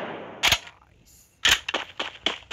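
Sharp cracks from a toy gun being fired, a single snap followed after a pause by a quick cluster of four or five loud, close pops.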